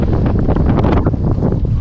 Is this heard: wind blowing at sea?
yes